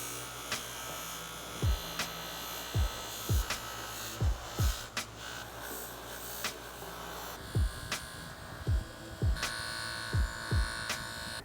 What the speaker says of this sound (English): the final product of touching these power valve parts up with the Prime MX Scotch-Brite wheels